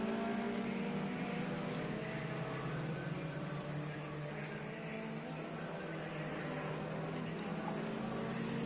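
Race car engines from a racing simulator game at Daytona, a steady dense drone of several cars running together, held at an even level throughout with no pauses or voices.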